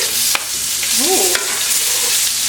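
Food sizzles and fries in a pan while being stirred, giving a steady bright crackle with a couple of sharp scraping clicks from the utensil and a brief squeak partway through.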